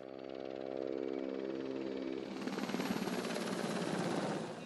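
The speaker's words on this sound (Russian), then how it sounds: "эвакуируют с помощью вертолета." A military helicopter flies during an evacuation drill at Ukraine-NATO exercises in the Lviv region, its rotor thumping loudly and engine whining as it nears, with no talk.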